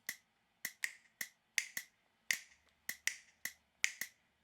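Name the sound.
metronome click marking dotted eighth notes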